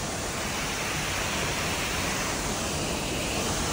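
Athirapilli waterfall in South India flowing heavily: a constant, dense, loud roar of falling water with no breaks and no voices.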